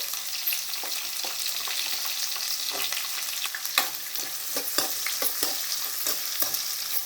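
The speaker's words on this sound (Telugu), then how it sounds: "బాగా ఆయిల్లో ఫ్రై అవ్వాలి." Green peas, curry leaves and onion fry in hot oil with a steady, close sizzle, broken by scraping stirs from a utensil. No voices.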